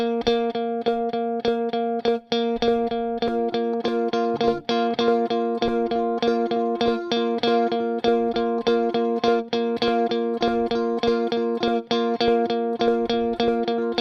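An electric guitar plays a steady chopped eighth-note rhythm of short repeated strummed chords with brief rests, clean and close, with no voices.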